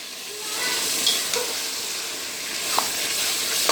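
About 1.5 kg of chicken sizzles and fries in a pot of browned korma base while a spoon stirs it, a steady close hiss with a few soft scraping knocks and no talk.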